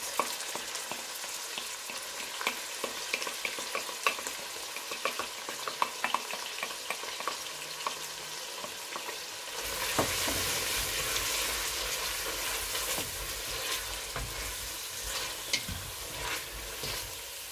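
Tomato frying with beef in a pan, a continuous sizzle with frequent clicks and scrapes of stirring, growing louder and hissier about halfway through.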